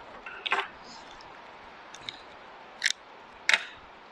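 Scissors snip quilting thread on a sitdown longarm quilting machine in four short, crisp cuts spaced a second or so apart, close and quiet with no talk.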